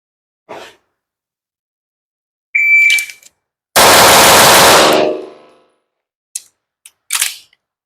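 Sig P211 GTO pistol shots ring out at a range: a few sharp, loud reports, one long echoing blast with a decaying tail, and brief clicks between them, with no talking.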